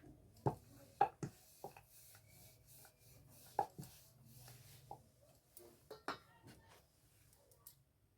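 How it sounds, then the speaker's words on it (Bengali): A knife slices thinly through rolled paratha dough on a board, making light scattered taps and scraping strokes, soft and close, with faint clinks in between. "চাকু দিয়ে এরকম ঝিরি করে কেটে নিতে লাগবে।"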